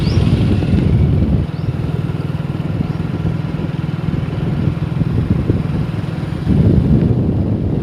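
A motorcycle ridden on a road in rainy weather, its engine running with a steady close rumble and clatter that swells slightly near the end.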